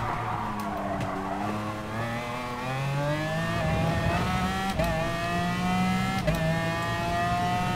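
A race car engine in the video game GT Sport whines and revs up through rising gear pitches, with brief clicks as it shifts. The tone is thin and synthetic, like an RC car, with no talking.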